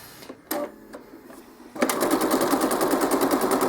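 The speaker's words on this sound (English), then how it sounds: "Now I want to show you this stitched out" A Bernina sewing machine stitches a varilock stitch into fabric. A few isolated clicks come first, then the machine starts and runs with a steady, fast, rhythmic needle chatter, close and loud, with no talk.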